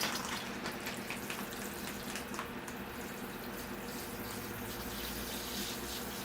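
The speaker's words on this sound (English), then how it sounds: "All right, here I go with the water." Water poured steadily onto sand in a bonsai pot holding a pruned Barbados cherry, a continuous close gushing and trickling wash that runs without pause and without talk.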